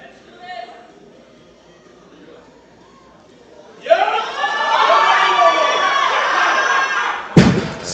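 A powerlifting crowd at the Pan American Powerlifting Championships, 105 kg men's event, erupts into loud sustained cheering and whooping after quieter murmuring, ending with a sharp thud.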